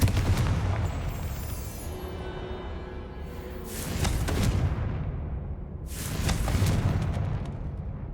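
Confringo blasting spell striking a barrier in Hogwarts Legacy, a loud rumbling boom with sustained crackling, followed by a second surge of blast noise and a lingering heavy rumble.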